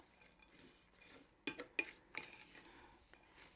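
Spoon stirring festive mincemeat with cinnamon and mixed spice in a bowl, giving a few quiet scrapes and clinks, with three sharper knocks near the middle, faint and close.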